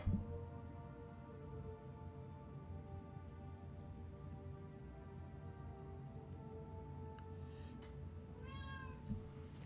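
A house cat gives a single clear meow near the end, heard over a quiet, steady indoor background hum with faint electronic tones, and no one speaks.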